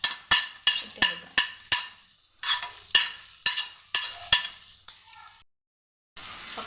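Chopped brinjal goes into a pan and is stirred with a spoon, about a dozen sharp clinks and scrapes of the utensil against the pan in a steady rhythm, with a faint sizzle between strikes.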